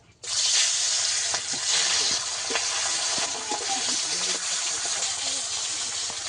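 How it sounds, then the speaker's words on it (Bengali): Hilsa fish sizzles loudly in hot oil in a wok over a stove, a steady broadband hiss that starts abruptly and continues throughout with small crackles and pops. "তেল ভালোভাবে গরম হয়ে গেছে,"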